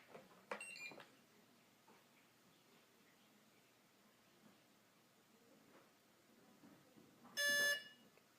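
A short electronic beep-tone from a Blade 350QX drone transmitter sounds near the end, loud and clear, after a couple of faint clicks and quiet background.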